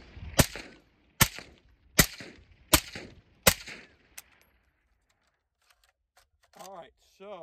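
A suppressed 6.5 Grendel bullpup rifle fires five sharp, evenly spaced rounds at close range, followed by a quieter click. Someone speaks briefly near the end.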